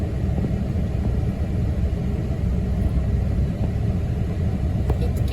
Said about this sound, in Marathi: इतकी ट्रॅफिक आहे.